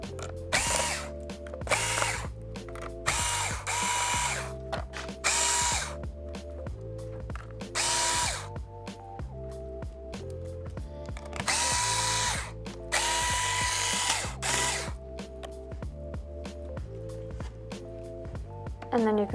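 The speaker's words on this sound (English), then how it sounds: "you need to flip the unit over and take out all of the bottom cover screws." Screws come out of the bottom cover of an HP Chromebook 14 G6 laptop with a power screwdriver, in repeated loud whirring bursts broken by short pauses and ratcheting clicks, close up.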